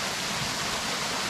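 A small waterfall at Sylvan Lake in Custer State Park, South Dakota, pours as a steady, unbroken hiss of rushing water, loud and close, with no voices.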